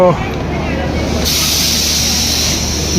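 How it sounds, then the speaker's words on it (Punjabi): A low, steady rumble of a train arriving at a station fills the air, then a sharp, sustained hiss of air bursts in and continues loudly to the end. "ਯਾਤਰੀ ਲੈ ਕੇ ਪਹੁੰਚੀ ਟ੍ਰੇਨ"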